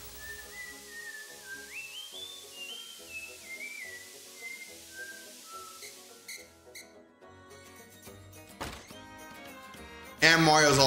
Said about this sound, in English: Mario's whistling the Mario music.